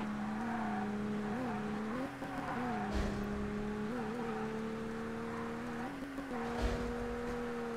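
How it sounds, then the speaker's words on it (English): A racing car engine in the video game ToCA Race Driver 2 drones steadily with shifting revs, and a couple of brief, dull thuds knock underneath as the car bottoms out. "I think that's just a car bottoming out."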